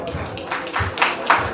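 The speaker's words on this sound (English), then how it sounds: "Big round of applause." An awards-ceremony audience honouring single women breaks into brief applause, scattered claps rising and falling over a short moment.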